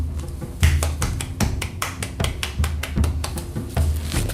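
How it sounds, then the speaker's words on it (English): A small group claps together for a boy who made it through the Ten Commandments at a Moses's Tent wilderness program: steady, rhythmic hand claps, close and fairly loud, continuing without a break. "Let's give him a big round of applause."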